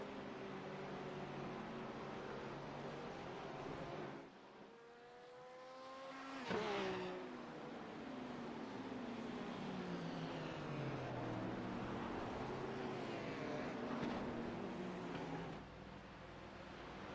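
A McLaren GT3 race car engine roaring at Mount Panorama, a sustained loud drone that drops briefly and then climbs through rising gear pulls, heard without commentary.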